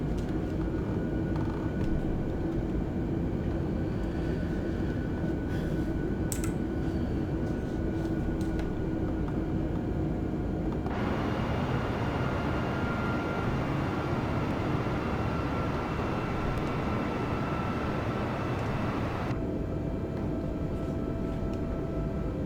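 Airliner engines spooling to takeoff thrust in Microsoft Flight Simulator 2020, a loud, steady roar that holds throughout, with the tone shifting and building partway through.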